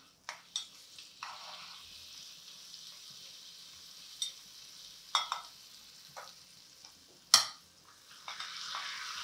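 Dried red chillies and red chilli powder crackle in hot oil for a dal tempering, with a steady faint sizzle broken by sharp spoon clinks and scrapes against the pan.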